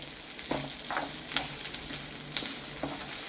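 Onion fries in oil for a Saraswat-style mutton curry, a steady close sizzle layered with a handful of spatula scrapes and taps at irregular intervals, no talking.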